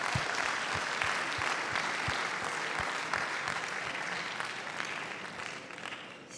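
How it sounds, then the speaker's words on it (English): An audience applauds for teachers on World Teachers Day at the NPAAA Lifetime Achievement Award ceremony: a dense, steady wash of clapping that holds for several seconds and slowly tapers. "I'd love to have everyone give a round of applause for their teacher"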